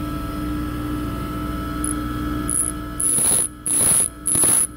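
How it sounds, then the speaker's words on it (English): A bench grinder hums steadily as it sharpens a lathe cutting tool, then three short, loud grinding passes bite in close by near the end, separated by brief gaps. "So that means I'm going to grind more off the bottom of that side."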